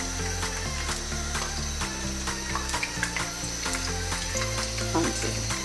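Ghee sizzles and crackles steadily in a hot pan as gobhi pakoras fry, a continuous close bubbling hiss with a tonal music bed running underneath throughout.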